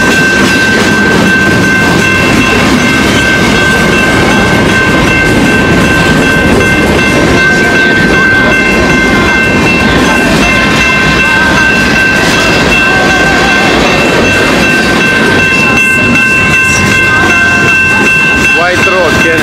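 A train rolls past close by in White Rock, Canada, steady rumbling and rail clatter filling the clip, with a sustained high tone and faint voices in the background.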